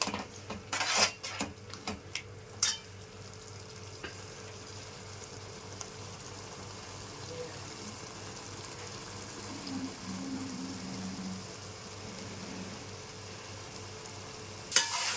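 A green paste of blended coriander, mint and yogurt fries in oil for a green chicken pulao, giving a soft, steady sizzle with a few close stirring clatters near the start and a low hum underneath; nobody speaks.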